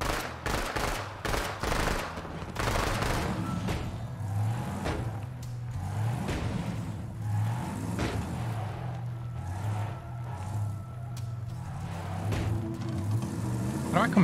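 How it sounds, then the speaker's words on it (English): Bursts of automatic gunfire in the video game Borderlands 3, rapid volleys up front then repeated shots over a droning vehicle-like engine hum, with players talking over the game. "I hear a roar, and then I just hear gunfire."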